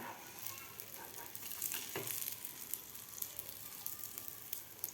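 Egg-coated bread omelette frying in a pan, a steady, fairly quiet sizzle with crackling pops running throughout, the underside browning without interruption.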